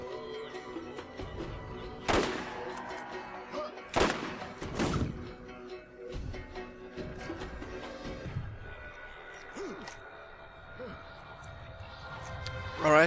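Gunfire in the shooter Borderlands: a few sharp, fairly quiet shots at scattered intervals, some as quick doubles, over a low game hum, with people talking beneath.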